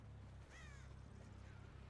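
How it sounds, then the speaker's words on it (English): A crow caws once in a video game, a short harsh call sounding over a loud, constant low rumble of game ambience. "Crow."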